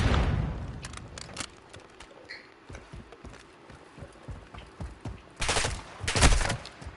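Gunfire in a Call of Duty DMZ match: scattered sharp shots and rattling bursts, some distant and some close, ending with a heavy, loud volley near the end.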